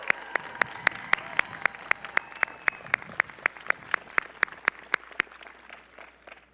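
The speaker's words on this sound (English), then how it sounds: "please give your loved ones a well-earned round of applause for all they have done" Steady, evenly spaced claps ring out at a university commencement ceremony, sharp and regular for about five seconds before stopping, with a faint crowd wash underneath.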